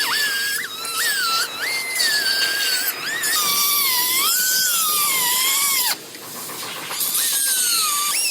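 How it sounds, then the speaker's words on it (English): A cutoff wheel trims the cross member of a squared-up Jeep frame, giving a loud, continuous high-pitched metal-cutting whine that wavers as it bites and briefly drops off before picking back up. "start trimming both of these sides of this cross member off."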